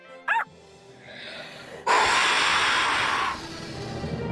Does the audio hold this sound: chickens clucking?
no